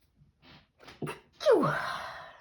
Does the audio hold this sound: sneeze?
yes